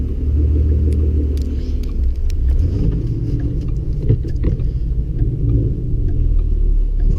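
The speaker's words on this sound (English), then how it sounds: "literally when I press the gas, my tires are spinning." A car's tires spin on ice and snow during a Louisiana snowstorm, making a loud, steady engine rumble and roar with scraping and clicking noises over the top, and no one speaks.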